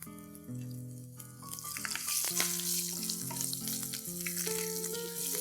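Half a teaspoon each of mustard seeds and cumin, with asafoetida, curry leaves and one green chili, sizzle and crackle in hot oil as a tempering for varan dal, with a steady melodic tone running beneath.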